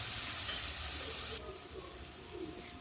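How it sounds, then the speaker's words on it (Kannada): Chopped tomatoes frying with ginger garlic paste in a pan, a steady close hiss and sizzle that drops to a quieter simmer partway through, heard alone without talk. "ಟೊಮೊಟೊ ಎಲ್ಲ ಸಾಫ್ಟ್ ಆಗೋವರೆಗೂ ಫ್ರೈ ಮಾಡ್ಕೊಳ್ಳಿ."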